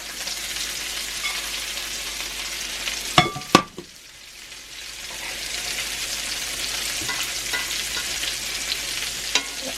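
Meatballs frying in a pan give a steady broadband sizzle for the whole stretch, with a couple of sharp clanks partway through as they are moved or stirred, and no one speaking.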